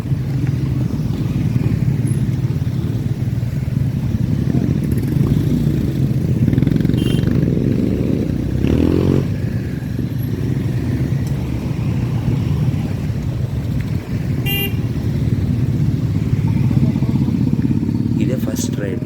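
Motorcycles gathered for a group ride at the Suzuki Matsuri 2026 biker festival, giving a loud, steady engine rumble that runs throughout, with indistinct voices mixed in.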